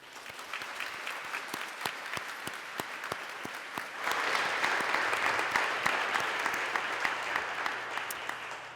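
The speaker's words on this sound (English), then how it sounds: "please join me in a round of applause to thank all the men and women who have served our country" Audience at a liberal arts and sciences college commencement ceremony gives a sustained round of applause to thank military veterans, the clapping swelling louder midway and continuing as a dense, even roar.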